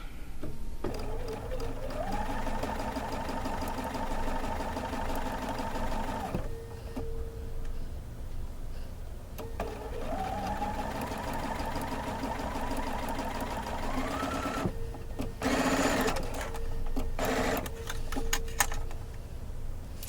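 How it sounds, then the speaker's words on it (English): A sewing machine stitches a quilt block seam in two sustained runs of rapid mechanical whirring with pauses between, followed by clicks and rustles of handling fabric; no one talks. "once again stitch it with a scant 1/4 inch seam allowance"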